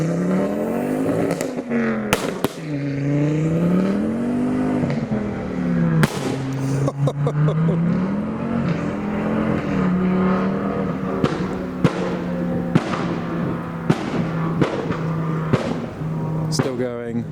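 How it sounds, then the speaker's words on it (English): A Ford Focus ST with a five-cylinder engine revs and pulls away, its exhaust note rising and falling through gear changes, with loud sharp pops and crackles repeating as it goes. "Here we go, the 5-cylinder sounds of the Focus ST."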